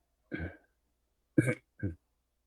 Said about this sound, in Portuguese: Me desculpa aí pelos pigarros